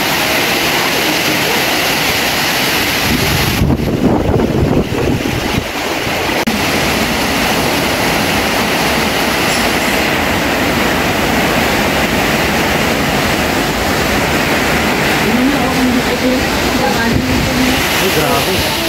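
Strong typhoon wind roars without a break in Catanduanes, a loud, dense rush buffeting the microphone with surf-like surges, while a voice speaks faintly underneath.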